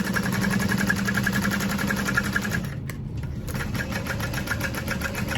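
A sewing machine stitches a fabric bag at a 4.5 stitch length, running in a steady, close, rapid mechanical rhythm that briefly dips near the middle before resuming.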